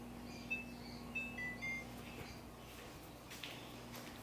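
A kitchen timer is set for a bread bake, giving a few short, thin beeps near the start, then a low steady room hum with faint handling clicks.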